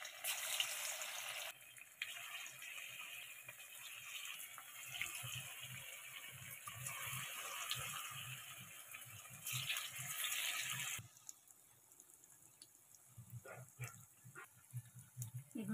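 Cauliflower pakoras coated in thick batter fry in hot oil, giving a steady, soft hiss and crackle with bursts of brighter sizzle at the start and middle, then fading to quieter bubbling with small pops.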